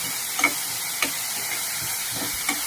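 Ingredients sauté in a pan with a constant hissing sizzle, punctuated by a few sparse spatula clinks and scrapes, close up with no voices.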